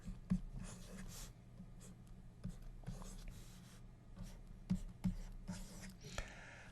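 Marker or chalk strokes on a lecture board while a balanced tree diagram is drawn, faint scratchy squeaks in short bursts over a low room hum, no talking.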